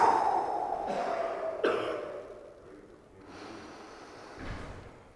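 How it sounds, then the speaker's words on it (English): Slow, deep breathing during a relaxation exercise, a few long, close, audible inhales and exhales with breathy rushes of air and short pauses between them. "Real deep breath."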